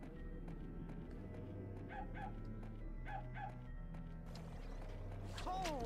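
A ghost dog barks in the video game Nightmare Before Christmas: Oogie's Revenge, several short yips in pairs over a looping low game music bed, followed by a rising whistle-like effect, no voices.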